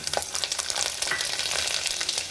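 Garlic fries in hot oil with cumin in a pan, a loud, dense crackling sizzle that stays constant and close throughout, with no voices.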